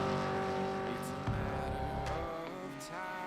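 A Gen 3 Supercar in iRacing, its engine droning loud and harmonic near the rev limiter, with pitch shifts and brief bumps as the revs change; a voice talks over it.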